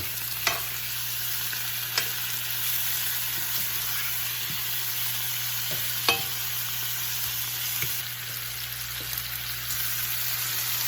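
Bacon frying in a pan for Cuban fried rice, a steady close crackling sizzle running throughout with a few sharp pops and utensil clicks, no one speaking.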